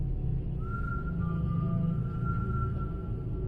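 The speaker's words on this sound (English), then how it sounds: "Someone was whistling." A lone person whistling a slow, eerie tune, a thin sustained melodic line of held notes over a low rumbling background, faint and distant.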